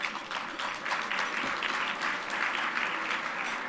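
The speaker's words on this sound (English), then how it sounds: "I like that applause" Banquet audience applauding steadily at an annual dinner gathering, a dense wash of many hands clapping at moderate loudness throughout, no voices standing out.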